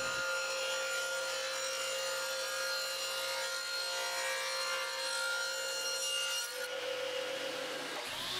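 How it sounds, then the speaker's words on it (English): Saw cutting 45-degree miters in wood pieces for an adjustable sofa table, a continuous whining power-tool cut with a steady tone, then a short change near the end as the blade frees and winds down; no talk. "I set the saw to 45 degrees and start to cut the angles on all the pieces"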